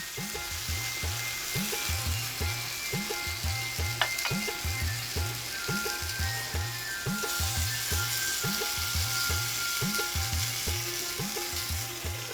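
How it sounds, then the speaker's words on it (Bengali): Onion, chili, vegetables and spices sizzle steadily in hot oil for a fish curry, with regular scraping strokes of stirring repeating throughout, close and fairly loud, with no talk. "তেলে ভাজা পেঁয়াজ মরিচের সাথে সবজি মশলা ভালো করে নেড়ে পানি দিয়ে কষানো হবে কিছুক্ষণ"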